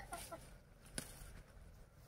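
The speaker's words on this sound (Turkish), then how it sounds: "Tavuklar da geldi." Chickens on a farm cluck in a few faint, brief calls close by, among quiet rustling, with no talk.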